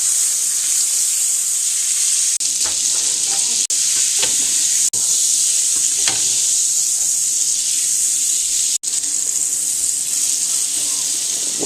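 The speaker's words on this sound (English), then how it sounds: "We're melting 3 tablespoons of butter in this pan." About three tablespoons of butter melting in a large pan on the stove for a roux, a loud continuous sizzle and hiss with a few brief stirring scrapes.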